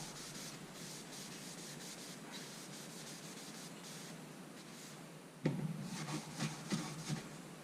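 Wood on a Wonder Horse rocking horse is hand sanded during a restoration. The rubbing strokes are steady, rhythmic and close, and grow louder and more vigorous near the end.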